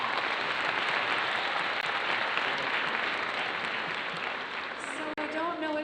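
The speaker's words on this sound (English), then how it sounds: "Can we give them a round of applause?" Sustained audience applause fills a spring concert hall, dense and steady throughout, with a few voices rising briefly near the end as the clapping continues.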